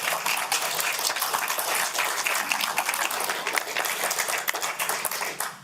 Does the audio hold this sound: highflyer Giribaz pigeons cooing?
no